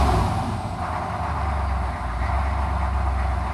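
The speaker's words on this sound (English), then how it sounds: "The idle goes up and down rather erratically" Cold 6.5-liter turbo diesel engine idling with a failing injection pump, a steady low droning rumble with slight wavering in level, heard alone outdoors.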